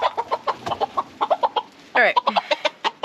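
A molting hen clucks in a rapid, irregular string of short, close calls, fairly loud, with a single brief spoken word from a person partway through.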